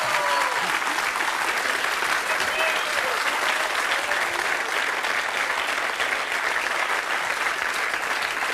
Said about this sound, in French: on peut applaudir Odette